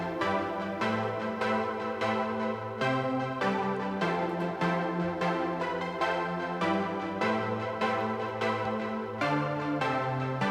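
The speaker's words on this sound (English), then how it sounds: "It's basically just a really simple super saw patch" Sylenth plays a simple super saw synth patch, with dense, bright sustained chords changing every second or so in a steady rhythm and no voice over them.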